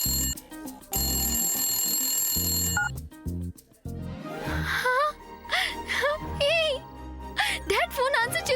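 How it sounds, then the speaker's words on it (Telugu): Telephone ringing in a Telugu TV serial, a bright repeating ring at the start followed by people talking and gasping, with a background music score rising under the voices. "డాడ్ ఫోన్ ఆన్సర్ చేశారు."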